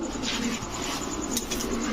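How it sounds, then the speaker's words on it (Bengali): A pair of Rampuri pigeons cooing, soft repeated coos close by over a steady, noisy background. "এখন দেখাবো এক জোড়া রামপুরি কবুতর"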